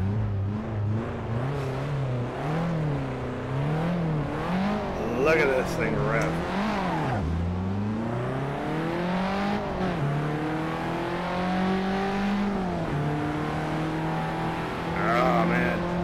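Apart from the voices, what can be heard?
Alpine A110 car engine revving in racing simulator game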